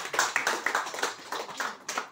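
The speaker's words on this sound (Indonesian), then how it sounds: "Tepukan untuk beliau." An audience at a corporate meeting program applauds, many hands clapping in an uneven, moderately quiet patter for a couple of seconds with no talk over it.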